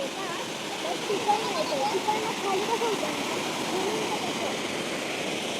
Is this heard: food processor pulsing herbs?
no